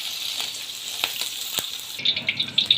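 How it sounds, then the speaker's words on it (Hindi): Okra (bhindi) fries in oil over a medium flame, giving a steady close sizzle with small crackles and pops that grow sharper toward the end. "मीडियम फ्लेम पे इस भिंडी को आपने फ्राई करना है"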